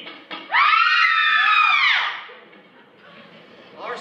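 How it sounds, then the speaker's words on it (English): Women screaming in a staged melodrama at a winter festival show: one loud, sustained high-pitched shriek of several voices lasting about a second and a half, then fading into crowd murmur. "And ladies to scream."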